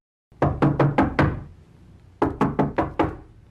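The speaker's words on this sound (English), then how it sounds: "and knocked on Martha's door." Someone knocks on a door in two crisp, evenly spaced bursts of five raps each, loud and close, with a short quiet gap between the bursts.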